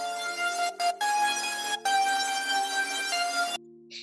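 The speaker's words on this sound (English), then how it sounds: "So then now with the gross beat on, it sounds like this." Sustained synth melody for a dark ambient beat with a Gross Beat effect, its tone chopped by sudden brief gaps that give a stuttering bounce before it cuts out near the end, alone with no voices.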